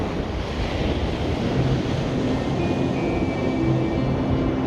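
Southwesterly wind blowing up the beach at Caister-on-Sea, Norfolk, with steady surf washing in; broadband gusty roar and microphone buffeting run continuously, loud and close, with no talk.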